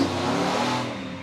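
A drag racing car at a raceway test and tune session, a loud sustained engine roar holding steady then easing slightly, close and alone.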